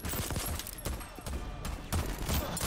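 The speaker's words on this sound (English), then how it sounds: "I hear gunfire." Rapid bursts of gunfire in the video game Voidtrain, dense and continuous with sharp cracks standing out, loud and close throughout.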